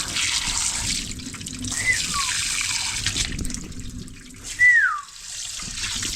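Water runs steadily from a tap in a home in Nairobi, making a constant splashing rush with a few brief shifts in the flow.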